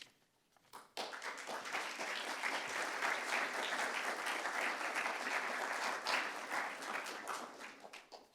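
Audience clapping at a poetry prizegiving, starting abruptly after a second of quiet, then a steady wash of applause that holds at moderate volume and tapers off toward the end.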